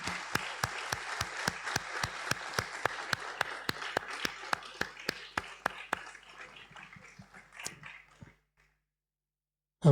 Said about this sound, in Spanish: Vamos a darle un aplauso al Señor por esto.